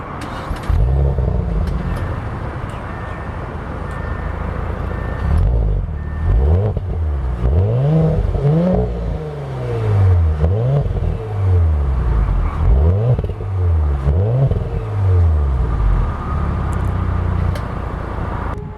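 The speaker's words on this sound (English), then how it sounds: "So let me start it up." A 2018 Audi S5 Sportback with a turbocharged engine idles loudly up close and then revs repeatedly, each blip rising and falling in pitch over a steady low rumble.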